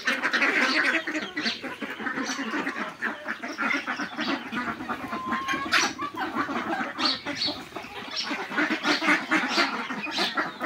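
A flock of large domestic farm ducks quacks continuously at a household duck farm, with overlapping calls and occasional chicken clucks mixed in, fairly close and without talk.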